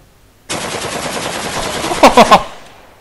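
Rifle gunfire in the video game Stealing the Diamond opens with a rapid automatic burst, then a few louder separate shots before fading out.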